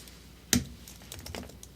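Code typed on a computer keyboard during a ServiceNow live stream, opening with one sharp keystroke followed by a loose patter of softer, close clicks, no voices.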